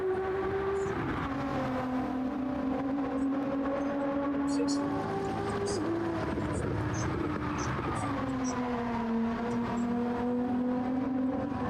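Race car engine in Gran Turismo 7 during an esports qualifier, holding a steady high drone with pitch shifts as gears change through a lap, running continuously under commentary.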